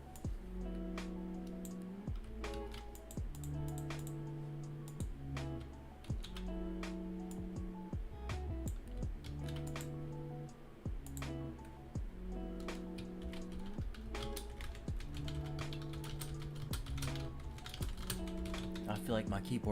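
Typing on a computer keyboard close to a microphone, a steady run of clicky keystrokes in bursts across the whole stretch, with low background tones underneath.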